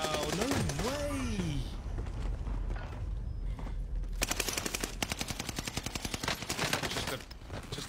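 Rapid automatic gunfire from a large gun in the video game Warzone, a dense fast rattle of shots that rises after a sweeping tone and continues steadily near and loud, with a voice speaking over it.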